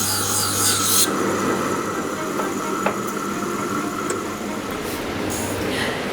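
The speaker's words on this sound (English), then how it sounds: "This is a filing machine. It cuts off tiny bits of metal to make the fork pointy." A filing machine screeches steadily as it rasps tiny bits off metal forks to shape the points. The harsh grinding runs nonstop and loud throughout, with brief high squeals partway through.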